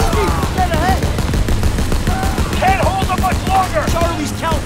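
Rapid bursts of automatic fire from a mounted gun in a realistic military video game, loud and close, mixed with engine rumble and overlapping shouted voices.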